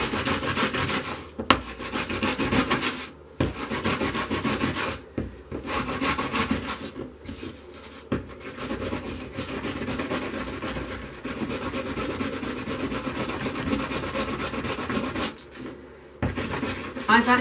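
Stained glass leaded panel being scrubbed by hand: continuous rough rubbing and brushing strokes, close and steady, with brief pauses between bursts of scrubbing.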